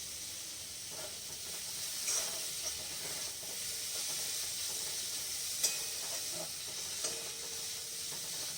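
Mushrooms, corn and vegetables sauté in a kadai with minimal oil, giving a soft, steady sizzle and hiss with occasional scraping stirs and light clinks, faint and close, with no talk.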